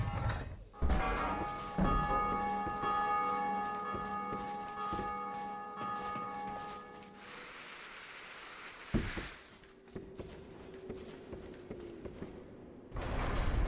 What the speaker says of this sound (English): Time to ring the first bell.